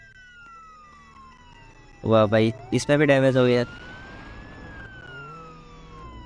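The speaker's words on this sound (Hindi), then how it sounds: "ये सायरन कौन बजा रहा है?" Police car siren in a Roblox open-world game, a steady electronic tone running through the clip while someone talks over it in loud, broken bursts.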